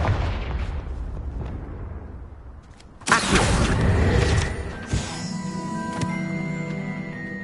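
A Confringo explosion spell cast in the Hogwarts Legacy video game: a sudden loud blast with a crackling, ringing tail, then a second smaller impact and a lingering metallic hum.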